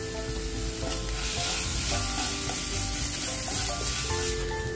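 Ginger, garlic and chili paste with turmeric frying in hot oil over a medium flame, a loud, continuous close sizzle with steady stirring and no voices.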